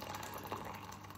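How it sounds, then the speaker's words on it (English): Warm water, about a mugful, poured into a plastic bowl for slow-cooking lamb, a soft, faint, steady trickle close by with no talking. "And then adding some warm water."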